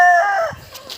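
A chicken gives a loud, close, drawn-out crowing call that tails off within half a second during feeding, followed by faint scratching and shuffling.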